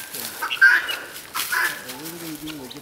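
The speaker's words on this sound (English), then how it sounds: "You are noisy. Look how pretty you are. Pretty. Guinea hens." Guinea hens calling on a rural walk, a few sharp, scattered squawks and chatters at moderate distance, with someone talking to the birds in between.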